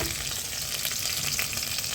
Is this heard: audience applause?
no